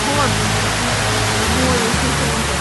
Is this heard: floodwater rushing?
yes